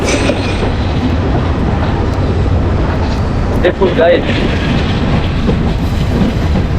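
A train runs on rails through the Chittagong countryside in the morning, a loud steady clickety-clack rumble close by, with a voice talking over it.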